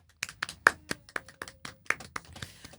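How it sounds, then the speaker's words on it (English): Scattered applause from a small audience, a dozen or so distinct claps in an uneven rhythm, fairly close and moderately loud, with no talk over them. "Round of applause, baby."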